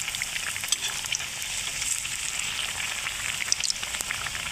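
Potato chops frying in hot oil, a dense even crackling sizzle with faint knocks as they are turned, close and steady throughout, no voices.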